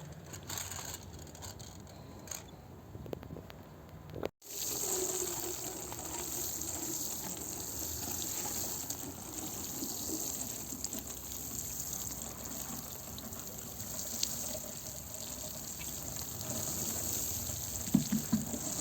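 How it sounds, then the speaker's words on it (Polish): Water from a hose or watering can pours steadily onto a freshly seeded cabbage garden bed, a continuous close gushing and trickling that briefly cuts out once early on, with no talking. "Ale teraz jeszcze troszeczkę podleję, żeby te nasionka od razu naciągły."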